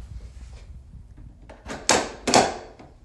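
A Barricade door security bar is fitted to lock a home's front door, producing two sharp, loud metallic clunks in quick succession after some soft handling sounds.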